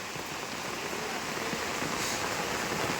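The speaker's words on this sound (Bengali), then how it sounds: "প্রচণ্ড বৃষ্টি হচ্ছে, হাই লেভেলের বৃষ্টি" Heavy rain pours down over flooded, knee-deep fields where pumpkin plants grow, a steady, even hiss of falling water without pause.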